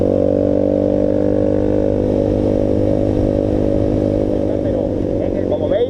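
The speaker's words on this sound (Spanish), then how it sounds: "suena mucho por el escape que le llevo puesto" A Voge 300 Rally motorcycle engine drones loudly and steadily at high revs, about 6,000 rpm in sixth gear near 100 km/h, its aftermarket exhaust producing a constant buzzing roar throughout.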